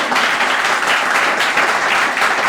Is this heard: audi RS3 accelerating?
no